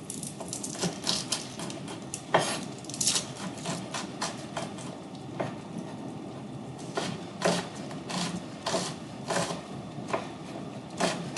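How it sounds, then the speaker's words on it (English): Rapid, irregular knife taps on a cutting board as food is sliced into half-centimetre pieces, close and crisp, coming in quick bursts with short pauses and no talk. "I'm cutting these at about 1/2 centimetre thick"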